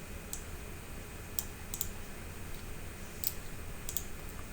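Sparse, faint computer keyboard clicks while typing during a CSV-to-JSON software tutorial, about half a dozen isolated taps spread irregularly over a steady low background hiss.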